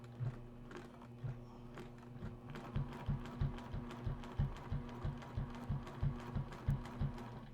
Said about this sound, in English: continue stitching around that block